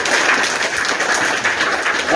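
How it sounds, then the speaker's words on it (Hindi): Steady applause from an audience at a government school donation event, dense and continuous at moderate loudness throughout. "ताली बजा।"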